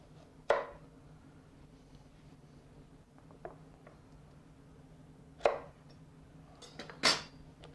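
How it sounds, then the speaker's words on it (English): A knife chopping through large carrots on a board for Greek avgolemono chicken soup, with four separate crisp cuts spaced a few seconds apart in a quiet kitchen. "if the carrots are pretty big, cut them in half"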